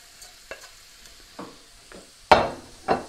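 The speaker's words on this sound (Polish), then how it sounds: "Wrzucamy na patelnię paprykę." Bell pepper added to a hot frying pan and stirred, with short bursts of sizzling and scraping, two louder sizzles near the end, quiet between.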